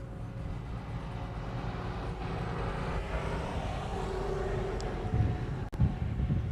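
A Delta airliner at Honolulu Airport gives off a steady, distant jet roar, a low continuous rumble with some wind noise on the microphone and no talking.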